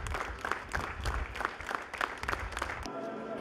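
Long, sustained applause from a crowd of mourners at a funeral for a writer in Georgia, dense clapping continuing steadily before stopping abruptly near the end.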